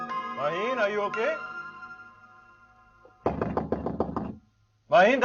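Someone knocks on a closed door at home, a quick run of about eight firm raps followed by another loud burst. A voice comes just before the knocks, and a voice plays over the opening.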